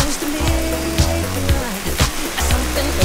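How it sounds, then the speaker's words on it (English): Steady rain falls in a hot jungle, a dense continuous hiss of drops on surfaces with a few louder splashes spaced through it, heard up close with no voices. "I'm sick of being in the rain."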